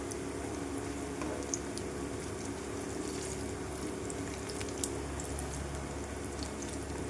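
Steady bubbling and hissing of oil as bread pieces fry for bread halwa, a continuous frying sound with a few faint crackles, close by and uninterrupted by voices.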